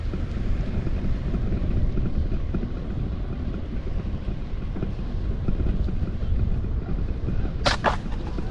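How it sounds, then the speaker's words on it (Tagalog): Strong wind buffets the microphone on a seaside corniche at Al Khafji, a steady dense roar filling the whole stretch, with a brief sharp chirp near the end. "Kaso lakas ang hangin."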